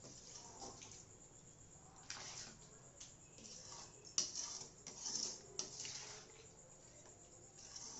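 Water pours and splashes steadily into a pot of mushroom gravy, with a few clinks of utensils against the vessel.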